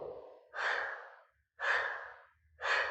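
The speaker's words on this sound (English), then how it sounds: "So quite sharp breaths on this" Three sharp, forceful breaths during a Pilates exercise, each a loud, breathy rush lasting about half a second, separated by short pauses and heard close up.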